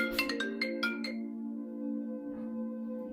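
A short electronic ringtone melody plays a few bright notes over a sustained hum, then fades into a quiet tone.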